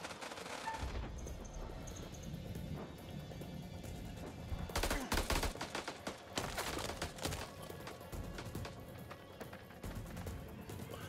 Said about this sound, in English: Firefight time. They're up on the ridge. Return fire.